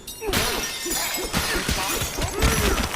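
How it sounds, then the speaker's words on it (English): Donkey Kong smashing blocks in Donkey Kong Bananza, a loud close run of repeated crunching, shattering impacts with debris scattering, one after another for several seconds. "Monkey smashes blocks"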